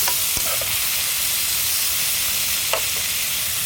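Sliced beef and onions frying on an outdoor griddle for a Philly cheesesteak give a steady, close, broad sizzle, broken by a couple of brief scraping clicks from a spatula.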